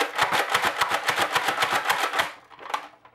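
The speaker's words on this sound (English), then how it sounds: "now we're going to go ahead and try slam firing sideways" A Nerf N-Strike Elite Alpha Trooper CS-12 blaster slam-fires while held sideways, giving a rapid, even burst of about fifteen sharp, close mechanical clacks and pops. A final lone shot follows after a brief pause.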